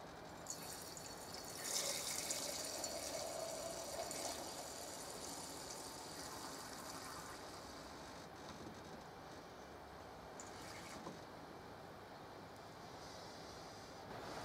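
Beer pours from the tap of a Muntons Brewery in a Bag kit, a faint, steady trickle into a glass, with brief louder splashes near the start and no talk over it.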